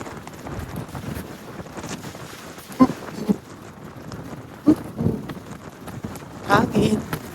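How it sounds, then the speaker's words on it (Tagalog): Strong wind blows at a sandy shore, rumbling and buffeting the microphone continuously, while a person speaks intermittently over it. "Dahil ang lakas ng hangin."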